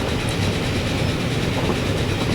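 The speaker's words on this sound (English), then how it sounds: "That's another express train coming." An express train rolls past in the railway simulation game Transport Fever 2, a loud, steady rumble with a continuous wheel roar and faint clickety-clack, no talk.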